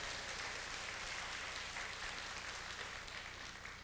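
A church congregation applauds new members during a Sunday service, steady, dense clapping throughout, moderately distant and fading slightly at the end.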